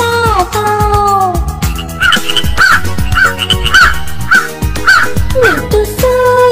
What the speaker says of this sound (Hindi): मुझे कौवे ने जगाया, बोला काव काव काव